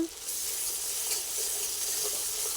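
Spices frying in hot oil for a desi chicken recipe, oil separating from the masala: a steady, close, high hiss of sizzling with faint crackles and occasional soft stirring.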